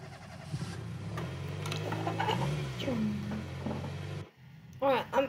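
A car engine in the video game Scary Pig Beef Stealer hums in a sustained, fluctuating drone under a player's chatter, then cuts off abruptly near the end.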